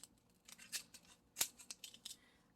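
Scissors snipping a small plastic bag off a strip of baggies at a craft table, a few quiet crisp snips and rustles spaced irregularly, close and faint.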